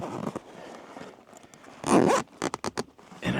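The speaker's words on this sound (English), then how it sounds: "I also put the zipper to the back." An awning storage bag's zipper is pulled shut in a long scraping run followed by several quick, rasping tugs, close and fairly loud, with rustling fabric before it.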